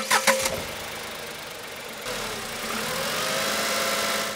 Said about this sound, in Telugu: ఇంజిన్ నాయిస్ ఎక్కువ వస్తుంది దీంట్లో